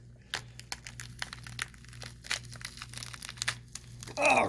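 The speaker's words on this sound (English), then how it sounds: "And there's that nice crunchiness." Scalpel cutting through a dissected pigeon gives a series of small crisp crunches and snips close by over a quiet steady hum, ending in a brief louder rustle.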